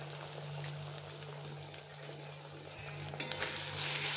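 Ground ginger paste and turmeric fry in a pan for a magur catfish curry, a low steady sizzle under a constant hum, with a few clinks and a louder sizzling surge near the end, no voices.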